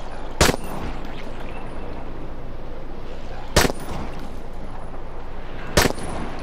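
Gunfire in the zombie game Dying Light 2: three loud, sharp single shots spaced a few seconds apart over a constant background rumble.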